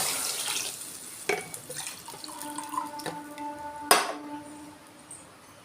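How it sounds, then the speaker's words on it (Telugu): Water is poured into a cooking pot of basmati rice for aloo pulao, with trickling and splashing broken by a few metallic clinks against the pot. "ఇప్పుడు నీళ్ళు పోసుకుందామండి"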